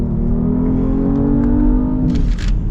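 A 2021 Genesis GV80 SUV accelerates hard in manual mode, its engine note rising steadily and loud from inside the cabin, with a shift-like change near the end.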